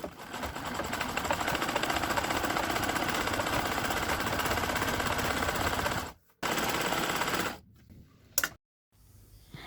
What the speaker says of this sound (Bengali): তো এখন আস্তে আস্তে সেলাই করে নিব, 3টা তাকের মধ্যেই দিয়ে দিব।